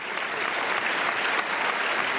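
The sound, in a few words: audience applause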